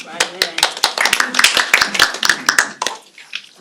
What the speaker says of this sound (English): Applause. It's like we're at a Knick game.